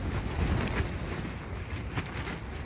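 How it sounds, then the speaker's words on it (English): Strong gusting wind buffets an inflatable-pole Australis caravan at an overnight campsite, a steady loud broadband roar with surges near the start and around two seconds, no voices. "the wind is a bit rough"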